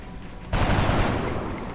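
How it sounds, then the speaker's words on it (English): Gunfire bursts out from soldiers in the video game XCOM: Enemy Unknown, one sharp, dense volley that starts abruptly after a quiet moment and rings on briefly. "Just try firing at him."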